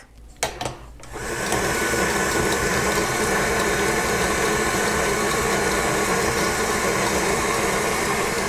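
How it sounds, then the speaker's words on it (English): An electric mixer whisks shortening through the dry ingredients for a blueberry buckle cake, a loud steady motor whine that starts after a few clicks and bumps and continues unbroken, close to the microphone. "you can cut it through with an electric mixer. And that's what I'm gonna do today"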